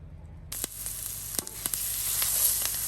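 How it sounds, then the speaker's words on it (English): Curry powder toasting in a hot pan, a bright hissing sizzle starting abruptly and building steadily, with a few sharp clicks and taps, close and alone. "what we're gonna do now is toast this curry for about a minute"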